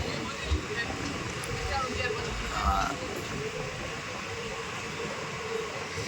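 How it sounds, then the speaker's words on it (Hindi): A train standing at Gagaria railway station gives off a continuous low rumble and hum, steady and moderately loud, with faint clanks and ambient station noise. "वैसे ट्रेन रुक चुकी है।"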